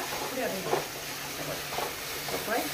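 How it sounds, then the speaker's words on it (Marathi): Spices frying in a pan for soya bean pulao, a soft steady sizzle with faint scraping of stirring at intervals, quiet and close. "आणि बरे मसाले 1 मिनिट बरो फ्राय करून घेता"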